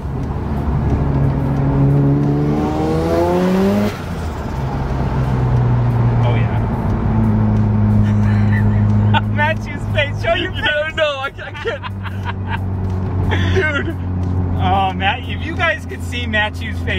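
A Mazda RX-7 FD rotary engine revs hard through an RE Amemiya cat-back exhaust, rising to a shrill, rasping exhaust note, while several people chatter and exclaim nearby.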